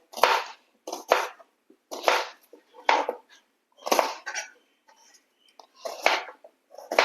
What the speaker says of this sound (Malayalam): ഞാൻ സവാളയൊന്ന് നുറുക്കി വെക്കട്ടെ